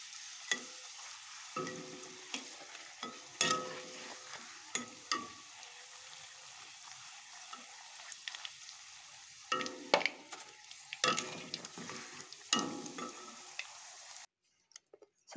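Food fries in a pan with a soft, steady sizzle, broken by repeated scraping stirs and light clinks of a utensil, close and fairly quiet, no voices.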